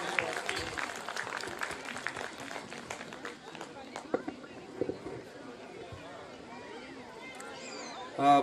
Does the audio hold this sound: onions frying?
no